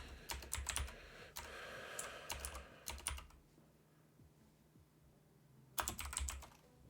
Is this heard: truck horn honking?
no